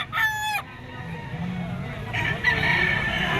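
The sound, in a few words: white-legged Boston stag rooster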